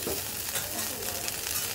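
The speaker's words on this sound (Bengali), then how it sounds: "তো চলো এবার এটাকে সুন্দর করে একটু হালকা ভেজে নেই।" Chicken biryani ingredients fry lightly in a pan, giving a steady, close crackling sizzle that runs unbroken with no voices.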